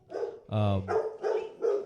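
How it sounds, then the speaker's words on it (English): Several barks from a couple of upset dogs in the background, a run of four or five sharp, evenly spaced woofs with one longer, drawn-out bark among them, heard alone without talk. "or a couple of dogs in the background that are just upset"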